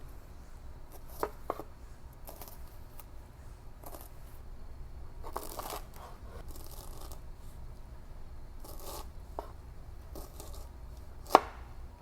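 A knife dicing a vegetable bulb on a cutting board, scattered crisp chops in small clusters with pauses between, close and clear, ending in one sharper knock.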